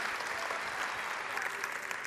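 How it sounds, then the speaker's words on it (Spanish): Steady audience applause fills a comedy show crowd at the Hulu Theater, a dense, even wash of clapping holding at moderate volume throughout with no voices on top. "Un aplauso para Manola, por favor."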